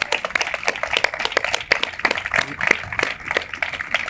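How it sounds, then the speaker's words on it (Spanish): Audience applause at a live debate on Hispanidad: dense, steady clapping that keeps going for the full stretch at moderate loudness, with no clear voice over it. "un aplauso para todos los demás"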